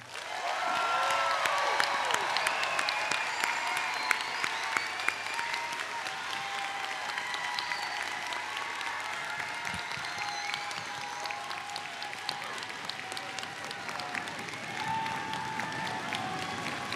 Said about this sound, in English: please join me in a round of applause as I present to you 2023 graduating class of Edmonds College